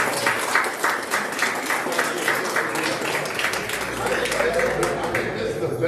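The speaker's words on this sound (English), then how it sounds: "Well, guys, give them a round of applause." Applause from the audience at an oath ceremony in Eastland, Texas, steady and mid-distance, with voices chattering underneath throughout.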